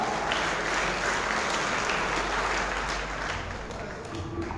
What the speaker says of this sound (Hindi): एक बार जोरदार तालियों के साथ स्वागत करें उन प्रतिभाओं का